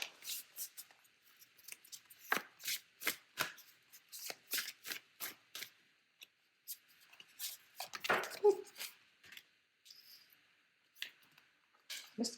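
Tarot cards are shuffled by hand in a quiet room, a series of close, crisp riffling bursts in irregular rhythm with brief pauses between them.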